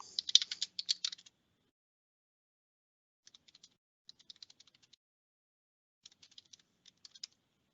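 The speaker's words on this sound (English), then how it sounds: "And again, he's typing," Typing on a computer keyboard: a brisk, close burst of key clicks, then quiet, then several short, faint flurries of taps with pauses between.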